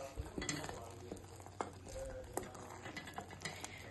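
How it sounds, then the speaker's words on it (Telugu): Tomato khichdi being stirred in an opened pressure cooker, a steady wet scraping and soft sloshing with occasional clinks of the spoon against the pot, close and moderately loud. "ఇప్పుడు చల్లగైన కుక్కర్ని మూత తీసి కలుపుకోవాలి"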